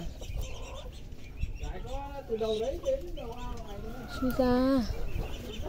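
Farmyard chickens cluck and squawk close by in rising, wavering calls that peak in a loud cackle near the end, with a person speaking briefly among them.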